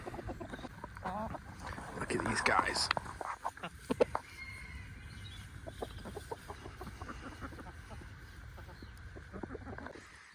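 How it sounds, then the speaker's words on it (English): Chickens in a young permaculture food forest cluck and murmur around a close voice talking, with a busier burst of clucking early on and softer clucks continuing throughout. "These are just some of the chickens that are out right now."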